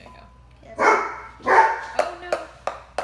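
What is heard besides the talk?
dog barking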